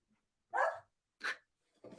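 A dog barks a few times at a distance, short separate woofs with quiet gaps between them.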